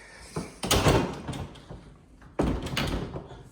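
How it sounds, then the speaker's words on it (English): Heavy closed pantry doors in a kitchen being opened and shut, two loud wooden thuds with rattling and clacking, the first followed by lighter knocks and a second solid bang after a pause. "you got to be careful because those doors are heavy"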